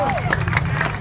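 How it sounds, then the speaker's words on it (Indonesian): An audience at a KSPSI AGN union event claps for Pak Ahmad, dense steady applause mixed with crowd babble and a voice over it, close and loud throughout. "tepuk tangan buat beliau nih"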